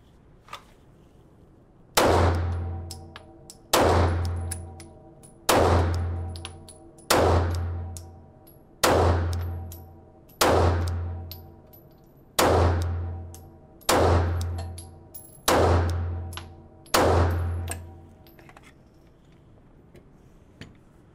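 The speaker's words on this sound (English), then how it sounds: "as you can see, we hit 10 shots. The camera counted 10 shots on target" Ten sharp gunshots ring out on a shooting range, fired at targets at a slow steady pace about 1.7 seconds apart. Each shot is loud and close with a metallic clang and a short decaying tail. No one speaks between shots.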